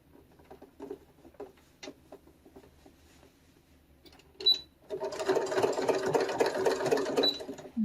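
A sewing machine stitches a jeans hem, starting with a few soft clicks and taps as the fabric is positioned, then breaking into a loud, steady, fast mechanical whirring for the final few seconds.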